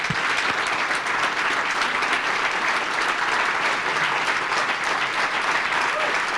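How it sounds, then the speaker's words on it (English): A luncheon audience at a radio industry conclave applauds Dan Mason, a dense, steady wash of many hands clapping that holds at an even loudness for several seconds, with no voices rising above it. "Could we have a big round of disc jockey blood applause for Dan Mason?"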